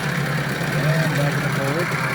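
A 1991 Johnson 15hp outboard motor runs in reverse in a test tank with a steady, even idle-like drone, while a voice speaks over it.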